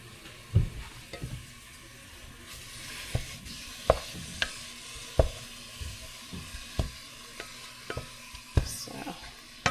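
Ground meat sizzling in a pan, quiet steady frying with repeated sharp scraping knocks from stirring every second or so, close and without talk.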